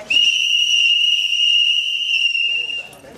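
A single loud, steady whistle blast is blown at a rally for living-wage jobs and affordable housing in Tacoma. It holds for about two and a half seconds before cutting off into crowd noise.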